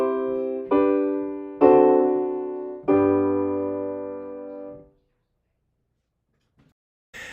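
Four sustained major-key chords in G, a 4-1-5-1 progression, each struck and left to ring in turn for about five seconds, then silence apart from a faint click near the end.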